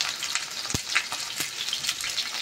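Yellowfin tuna fries in a pan of oil with a steady, close sizzling hiss, broken by a few sharp pops and crackles.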